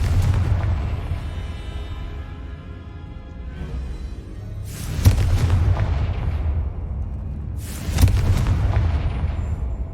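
A Confringo fire spell explodes in the Hogwarts Legacy video game, giving two loud, sharp booms a few seconds apart that decay over a steady low rumble of game ambience.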